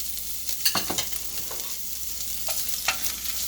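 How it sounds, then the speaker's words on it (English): Ginger garlic paste dropped into hot oil, a steady close sizzle and hiss with a few stirring scrapes and clicks on top, no talking. "Now I'm going to put ginger and garlic paste."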